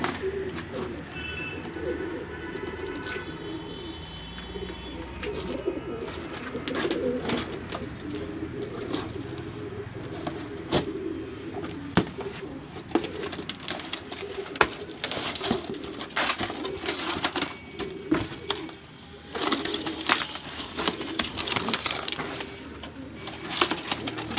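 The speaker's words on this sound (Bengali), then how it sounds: "রানাঘাট থেকে আমার পায়রায় আসলো" Domestic pigeons delivered from Ranaghat coo softly and repeatedly close by, a steady low murmur with scattered rustles and faint clicks over a constant background hum, with no talk.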